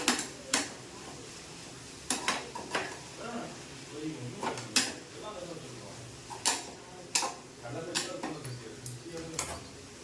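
Spoon or spatula clinks and scrapes against a pan while grated coconut is stirred into a bean stir-fry, in irregular metallic taps with a voice talking underneath.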